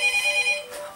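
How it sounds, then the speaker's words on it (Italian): A Samsung Galaxy S II mobile phone rings with a melodic electronic ringtone of steady repeating tones, loud and close, with no voices over it. "Oddio, suona il telefono, oddio."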